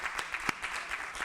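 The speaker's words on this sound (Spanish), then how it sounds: "Yo les pediría que tengamos un segundo aplauso" Brief, fairly quiet applause from an audience at a talk and debate on doctors during the COVID-19 pandemic, steady crackling claps with no voices over it.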